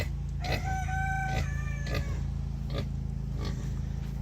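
A hen gives soft, repeated clucks nearby while feeding her chicks, over a constant low hum, with occasional higher chirps from the chicks mixed in.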